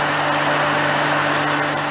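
Spinning brushes of a Dyson DC33 vacuum cleaner running close up, a loud steady motor whir with a constant tonal hum and no break over the short stretch.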